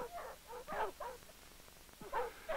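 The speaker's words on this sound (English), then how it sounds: "His dogs were tethered out on the foredeck, and they were fed once a day." Dogs tethered on the foredeck of a Royal Canadian Navy ship give a few short barks and whimpers, moderately close and fairly faint, with pauses between the bursts and no talking.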